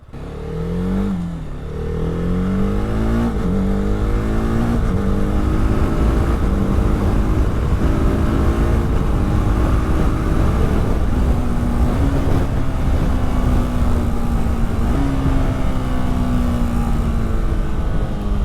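A 2025 TVS Apache RR310 motorcycle revs up and changes gear with its quickshifter, the engine note climbing and stepping down at each shift in a loud, continuous, nearby whine.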